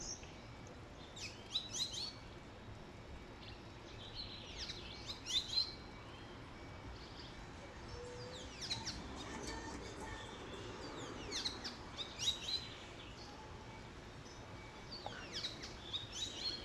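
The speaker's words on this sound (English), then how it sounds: "hear the birds" Birds sing and chirp in scattered bursts near a river in Trinidad, beside homes and bamboo, fairly faint over a steady outdoor background with no talking.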